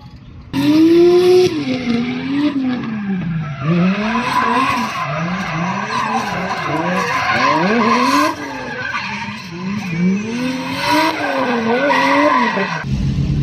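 Nissan S14 drift car with a 2JZ engine skidding through a test run: continuous loud tire squeal and rising, falling engine revs sweeping up and down in waves for over ten seconds, close by with no talk.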